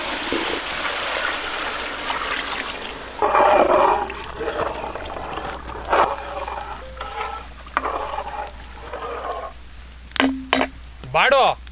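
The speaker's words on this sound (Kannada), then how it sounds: "ಹಂದಿ ಬಾಡು ಬೇಯಕ್ಕೆ ನೀರು" Water poured over pork in a cooking pot, a running, trickling pour with gurgles and splashes, heard close, with a few short clanks near the end.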